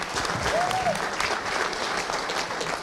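Audience applause at a city's State of the City address, steady clapping from a crowd in a hall, with a faint voice briefly over it.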